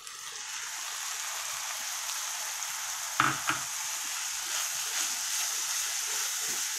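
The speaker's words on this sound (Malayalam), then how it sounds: "നല്ലോണം വഴറ്റി കൊടുക്കണം" Chicken sautés in a pan for white sauce macaroni, giving a steady, close sizzle with a couple of sharp utensil clinks and stirring scrapes partway through.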